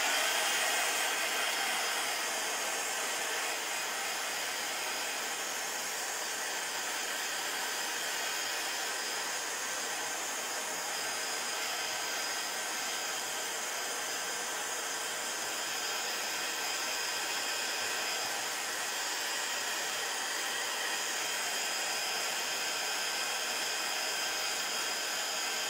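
A hair dryer blows steadily over a hot-glue craft piece, a loud, even, hissing whoosh that runs unbroken for about twenty-five seconds, close by with no talking.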